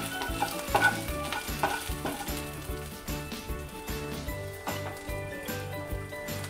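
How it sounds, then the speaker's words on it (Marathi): Cumin seeds and salt sautéing in a hot pan give a steady close sizzle, with a spoon stirring in repeated scraping strokes throughout. "परतून घ्यायचं आहे।"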